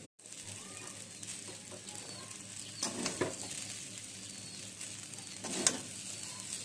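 Chow mein frying in a pan with sauce added, giving a soft, steady sizzle throughout with a few faint clinks and brief bursts of louder crackle.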